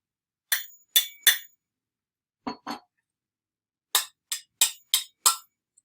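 Two cups of the same material but very different shapes are struck again and again, giving short, bright clinks that ring at different pitches. The clinks come in quick clusters with gaps between them, close and clear with no other sound.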